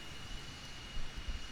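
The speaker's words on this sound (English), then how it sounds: "And that's a plane taking off." A plane takes off in a flight simulator of a Milviz 737-200 jet, a steady broadband engine roar with low rumbling swells, fairly distant and moderate in level, with no talking.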